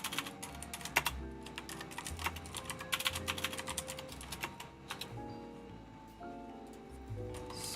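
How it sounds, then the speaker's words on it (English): Steady, rapid typing on a computer keyboard during cafe prep work, with close, busy key clatter running under soft background music. "Sorry if she like just starts typing and replying to things."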